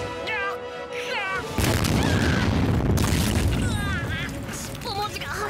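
A loud, rumbling blast from an anime explosion erupts midway and keeps roaring for over a second, with a voice shouting before it and animated voices continuing afterward.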